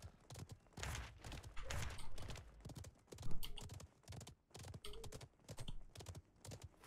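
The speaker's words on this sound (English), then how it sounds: "Or I'm hearing Derek's horse." Rapid clip-clop of horse hooves trotting, rhythmic and close, with a slightly synthetic game-like quality.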